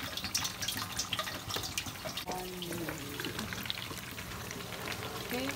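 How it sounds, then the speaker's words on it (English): Water poured into a cooking pot for khao poon, a steady splashing, trickling flow close by with some clatter, running for several seconds. "I'm gonna use about 2 gallons of water."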